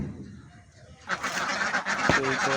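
Loud, busy quacking from a group of ducks starts abruptly after a quiet second, continuing as a dense, close chorus.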